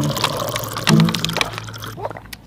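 Water being poured, a short splashing, gurgling pour with some dripping, close by in a room, with faint background voices.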